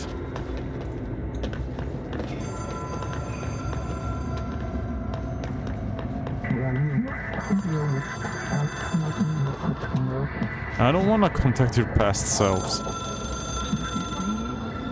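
An old telephone rings in the Control video game, its repeated bell tones sounding through a game scene with footsteps and a voice talking over it, the ringing growing more prominent toward the end.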